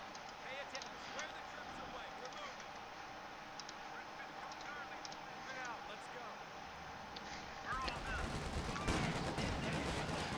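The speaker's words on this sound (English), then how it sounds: "Nice AT gun hit." In Company of Heroes 2 Ardennes Assault, an anti-tank gun round strikes its target amid ongoing battlefield gunfire. A sharp, louder burst of impact noise breaks in near the end over scattered shots, with voices faintly mixed in.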